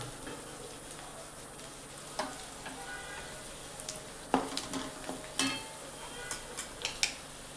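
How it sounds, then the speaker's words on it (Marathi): Onions for kanda pohe sizzle softly in a pan, a steady low frying hiss broken by occasional clicks and scrapes of a spatula, with a voice talking over it. "आता हा कांदा पण छान भाजलाय आपला, मऊ झालाय मस्त."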